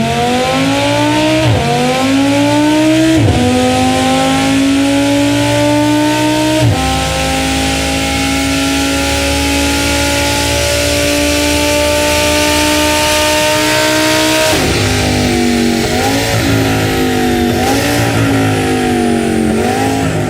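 A 2016 Audi R8 V10 Plus V10 engine in Need for Speed revs loud and steady, climbing through gears with sharp pitch drops at each shift and rising again, racing continuously with no talk.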